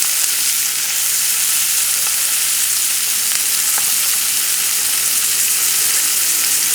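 A Cornish hen and shallots browning in a hot pan over lowered flame give a steady, loud, close sizzle and fry that runs unbroken throughout, with faint stirring ticks and no voices.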